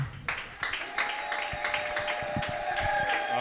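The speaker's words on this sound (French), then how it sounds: "Est-ce que tu peux applaudir pour le Seigneur?" A church congregation claps for the Lord in a sermon service, a steady run of sharp hand claps under a sustained tonal background, fairly close and moderately loud.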